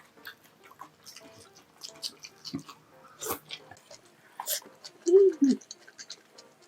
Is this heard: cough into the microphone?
no